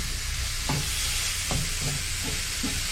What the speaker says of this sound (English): We're going to start off by frying the bacon lardons off a little bit.